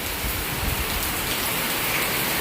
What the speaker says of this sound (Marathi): वार वादळ पाऊस आहे